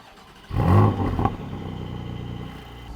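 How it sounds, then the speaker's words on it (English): A Porsche 718 GTS 4.0 with a manual gearbox starts off, its engine swelling into a loud, close rev and then easing into a steady throaty drone as it pulls away. "let's take it for a drive."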